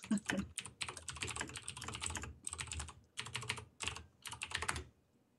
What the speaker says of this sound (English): Clickety clickety click click. Loud keyboard noises.